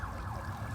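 Sirens of emergency vehicles on a Hollywood street near Sunset Boulevard, a steady wailing tone that sweeps up and down, fairly distant and continuous under low street rumble.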